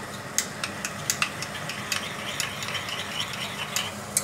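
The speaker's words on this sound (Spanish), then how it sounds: "Le damos unas vueltas que se disuelva la picada" Spoon scraping and clinking in a pot as picada is stirred into a simmering mussel suquet sauce, with soft sizzling underneath and irregular close metallic taps throughout.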